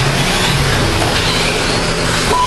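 RC cars racing on an indoor offroad track make a loud, continuous whining buzz that stays steady and close for the whole stretch, with no voices over it.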